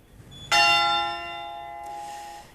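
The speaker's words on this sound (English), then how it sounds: "church bells have been ringing out across the capital, Manila" A church bell rings out across Manila, a single loud, bright strike at the start with a long, shimmering ringing tone that slowly fades, and a second fainter bell joining near the end.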